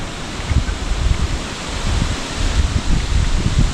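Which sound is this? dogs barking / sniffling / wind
wind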